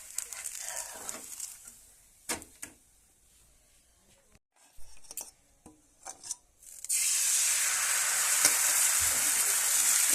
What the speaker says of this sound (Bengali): ভালো করে ভাজা হয়ে গেছে 2 পিঠ